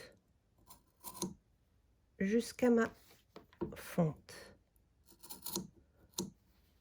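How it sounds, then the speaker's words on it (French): Scissors snip in short separate bursts as they notch fabric for a jogging-pants pocket. Someone speaks softly close by between and over the cuts. "Je prends mes ciseaux. Je crante"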